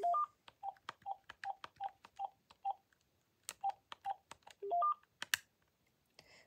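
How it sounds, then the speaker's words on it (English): Keypad key tones from an AT&T VTech cordless phone, a run of short evenly spaced beeps with a few quick two-tone chirps mixed in, clear and close with no talking. "the key tone is the standard AT&T VTech modern"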